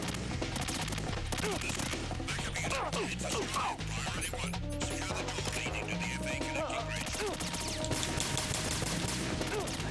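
Gunfire in the stealth action game Metal Gear Solid 2: Sons of Liberty, a continuous loud barrage of rapid shots and crashing impacts over steady game noise with no pauses.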